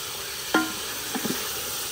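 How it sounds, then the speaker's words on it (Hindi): Beef frying with spice masala in a pot for pulao makes a low, continuous sizzle, broken by one sharp stirring scrape and a few fainter knocks of the spoon, with no voices. "अभी गोश्त को भी मसाले के साथ अच्छी तरह भून लेंगे।"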